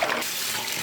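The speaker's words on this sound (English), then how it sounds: "Now I'll add water to these so that I have 40 liters of water." Hot water pouring into containers on a farm to dissolve salt, a brief, steady gushing splash, close and fairly loud.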